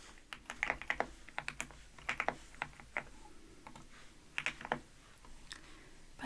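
Close, soft computer keyboard typing comes in quick bursts of keystrokes with short pauses between them. The setting is quiet and no one speaks.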